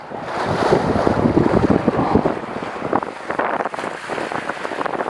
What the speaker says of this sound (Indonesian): Anginnya mulai ngegas.